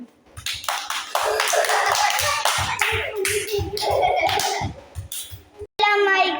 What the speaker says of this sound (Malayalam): എല്ലാരും നാഫി ക്ലാപ്പ് കൊടുക്ക്